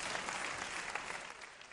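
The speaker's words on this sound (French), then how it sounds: "Non, applaudissez pour vous." A comedy show audience in Bamako breaks into sustained applause, a dense, even wash of clapping from many hands, fairly distant and moderately quiet, with no voice above it.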